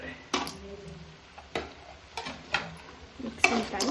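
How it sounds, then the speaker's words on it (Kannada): Fried gobi stirred into sauce in a pan, with a series of sharp scraping and clinking strokes at irregular intervals over a soft sizzle. "ಡ್ರೈ ಗೋಬಿ ಹಾಕ್ತಾ ಇದ್ದಾರೆ"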